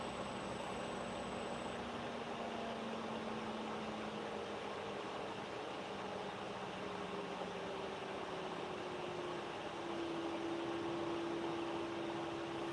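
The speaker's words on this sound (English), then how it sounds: "The van has this rumble sound to it." A van engine idles with a low, steady rumble and a faint droning hum, unchanging throughout with no one talking.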